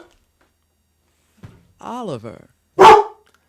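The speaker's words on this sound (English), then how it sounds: "My dog is voting." A pet dog gives a single loud bark right after a short spoken word, with a quiet indoor background otherwise.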